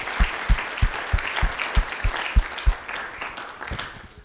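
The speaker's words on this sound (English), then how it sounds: "Please join me in a round of applause for all of these great partners." An audience at a health research forum claps for sponsors in a short burst of applause, with a few sharp, rhythmic individual claps standing out near the microphone over a softer spread of hands.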